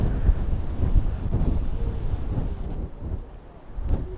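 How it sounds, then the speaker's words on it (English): Strong coastal wind at Peggy's Cove buffets the microphone in a continuous, loud, low roar with gusty swells and no voices. "It's very, very windy"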